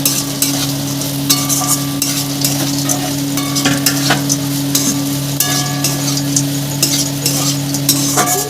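Corn kernels fried with spices are stirred in a pan, a loud close sizzle broken by repeated sharp scrapes and clinks of the spoon against the metal, with a steady background hum and no talk.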